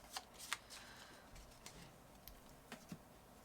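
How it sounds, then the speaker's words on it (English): A deck of modifier cards for a Frosthaven board game is shuffled at the table, soft quick riffles and taps in a few short bursts, faint and close with a quiet room behind. "They have to get shuffled."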